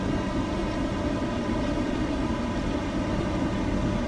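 Airberlin airliner on final approach to runway 24 right in Flight Simulator X, a steady, loud engine roar and rushing airflow that holds evenly throughout with no speech.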